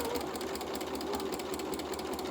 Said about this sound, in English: I'm just sewing on that line